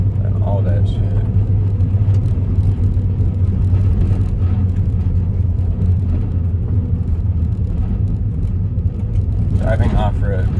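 A Honda Fit driving off road through a canyon gives a steady, loud low engine and tire rumble throughout, with brief voices near the start and end.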